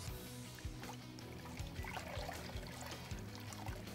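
Foam motorcycle air filter rinsed by hand in warm water, close gentle sloshing and dripping with a few soft splashes over a few seconds, no talking.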